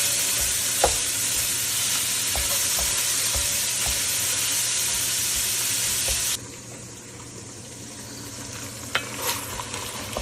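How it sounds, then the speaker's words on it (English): Meat sizzles loudly in a hot pan while a utensil stirs and breaks it up, a steady close frying hiss with scraping that drops to a quieter sizzle partway through, then a few clinks. "you're just gonna kind of get that broke up"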